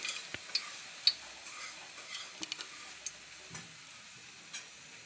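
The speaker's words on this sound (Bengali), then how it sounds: "দেখো ঘি দিয়ে দিয়েছি, এবার দুটো তেজপাতা দিয়ে দিলাম।" Two bay leaves dropped into hot ghee in a pan, a faint, quiet sizzle broken by scattered sharp crackles and pops spaced unevenly.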